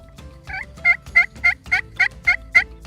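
A slate turkey call produces a simple yelp series, about eight sharp, evenly spaced raspy notes close up, each clipped and bright, with no talking over them.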